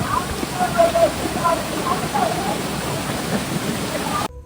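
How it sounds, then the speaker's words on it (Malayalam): Spring water from a hilltop well flows near a cave temple, a continuous rushing splash close by with brief bright trickling notes, ending abruptly. "ആ കിണറിൽ നിന്ന് വരുന്ന വെള്ളമാണ് ഇവിടെ നീരറിവയായിട്ട് ഒഴുകുന്നത്"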